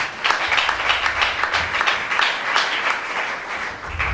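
A church congregation claps and cheers during a worship service, sustained rhythmic applause with irregular bursts filling the whole stretch, loud and close, with no clear talk over it.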